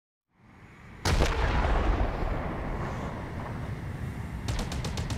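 Sniper gunfire in the video game Halo Infinite: a single loud, booming shot with a long rumbling tail, followed a few seconds later by a rapid cluster of sharp cracks.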